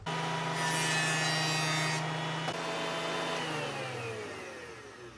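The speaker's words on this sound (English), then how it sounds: "I'm going to start by cutting my piece of wood down with my bandsaw." Bandsaw cutting through a piece of wood, a loud steady whine and rasp running throughout that slowly fades near the end as the cut finishes.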